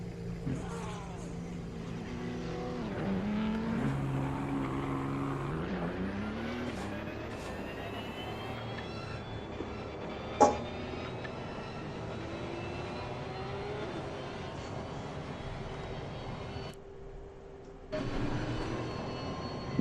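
A racing game car rolls down the pit lane at Spa-Francorchamps with a steady, close engine drone whose pitch climbs and then holds. There is one sharp click, and the sound briefly drops out near the end.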